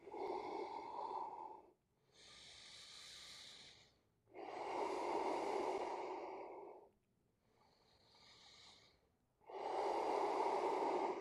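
Slow, deep breathing while holding a yoga forward bend, three long close breaths with quieter pauses between, each rush of air steady and soft, no talking.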